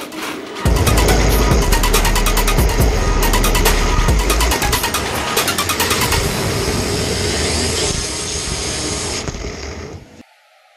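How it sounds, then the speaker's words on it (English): A car engine starts with rapid mechanical clatter, then runs and revs loudly up close for several seconds before cutting off abruptly near the end. "Car"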